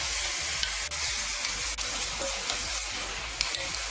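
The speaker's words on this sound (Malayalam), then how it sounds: "ഈ ചോപ്പ് ചെയ്ത് വെച്ചിരിക്കുന്ന സവാള ഇട്ട് വഴറ്റി കൊടുക്കാം" Chopped onions sauté with whole spices in a pressure cooker, a dense, steady sizzle and hiss heard up close and alone throughout, with a few faint clicks of stirring.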